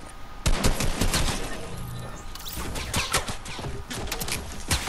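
Rapid bursts of gunfire from a Fortnite match, sharp repeated shots crowding together in a loud, dense volley that thins out and then picks back up toward the end.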